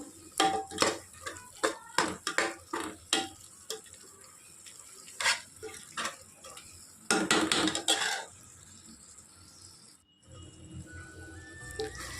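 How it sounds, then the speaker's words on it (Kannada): Tomato bath mixture with spices stirred in a pan, a run of sharp rhythmic metal spoon scrapes and clanks against the vessel, a dense burst of stirring, then a pause and quieter frying. "ಅದನ್ನು ನೀಟಾಗಿ ಇಟ್ಟು ಮಿಕ್ಸ್ ಮಾಡ್ಕೋಬೇಕು"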